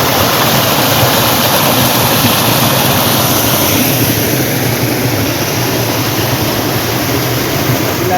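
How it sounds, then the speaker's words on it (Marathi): Loud, steady rush of monsoon rainwater flowing down from the mountains toward a river in Konkan, a continuous broadband roar with no pauses, like a stream tumbling down close by. "हे डोंगरातून येणारं पाणी आहे आणि हे वाद खाली नदीला जाऊन मिळतं"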